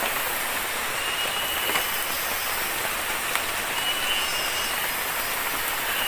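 Soft, even hiss of light rain falling steadily in a forest, with no voices and only faint distant sounds underneath.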